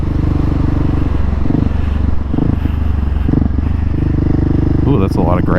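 A GasGas SM700 supermoto motorcycle roars steadily at speed on a freeway, a loud, rumbling engine drone mixed with heavy wind buffeting, while a rider talks over it.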